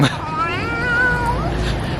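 A cat lets out one long, wavering meow that rises and falls over a steady background hum, with faint murmuring voices nearby.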